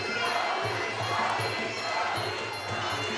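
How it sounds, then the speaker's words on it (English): Crowd at a Fight Nights MMA event chanting the name of Polish fighter Dawid Zimnicki, a sustained roar of many voices with rhythmic low chant pulses, steady and fairly loud throughout. "the crowd chanting Dawid for Dawid Zimnicki out of Poland"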